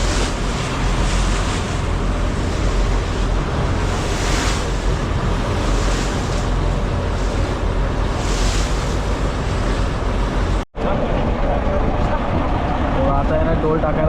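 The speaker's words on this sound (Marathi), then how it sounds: "म्हणजे लाटा असतात मोठमोठ्या." Big waves on the open sea seen from a fishing boat out for prawns: a continuous loud roar of surf and rushing water, with heavy wind buffeting the microphone throughout.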